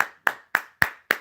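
Five sharp, evenly spaced hand claps of applause, each crisp and close with a short decay and silence between them, with no talking.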